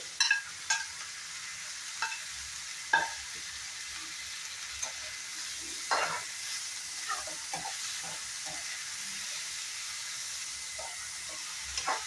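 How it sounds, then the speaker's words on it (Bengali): Onions, chopped tomatoes and green chillies frying in a pan for a dhaba-style chicken masala: a soft continuous sizzle with scattered stirring clatters and occasional sharper clinks, fairly quiet, with no talk. "এখন এখানে দিয়ে দেব কেটে রাখা টমেটো, সাথে কাঁচা লঙ্কাটাও দিয়ে দেব।"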